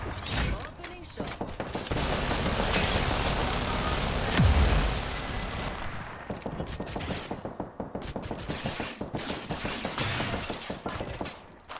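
Rapid gunfire bursts from a battle-royale video game match, loud and dense, crackling through most of the stretch with mid-fight chatter from players talking over it.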